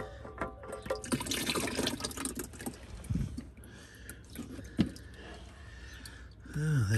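Engine oil pours and trickles from the sump of a supercharged 4.2 Jaguar XJR X350 into a container, a close liquid splashing with some drips, fading in places with faint handling noise.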